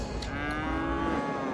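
In the city-building game Cities: Skylines, a cow lets out a single drawn-out moo, loud and close, set against a dense background ambience.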